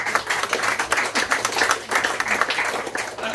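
Dense clapping from an audience at a seaside summer show, a continuous crackle of many hands with no voices over it.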